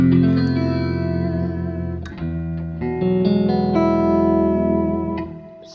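Electric guitar played through a Fender tube amp on its clean channel with some reverb, ringing sustained notes and chords that shift pitch in a steady, articulate phrase, clear and close with no talking.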